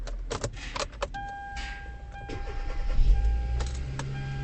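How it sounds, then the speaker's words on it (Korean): A used Hyundai Avante (The New Avante) is started from inside: keys jangle and a few chimes sound, then the engine catches and settles into a low, smooth idle rumble that builds toward the end, with no talking. "제가 시동 한번 걸어보도록 하겠습니다"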